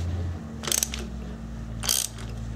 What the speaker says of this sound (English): this is just a spark plug removal socket